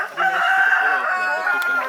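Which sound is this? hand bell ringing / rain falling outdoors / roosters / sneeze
roosters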